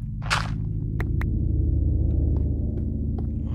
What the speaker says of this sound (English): those cave noises give me the creeps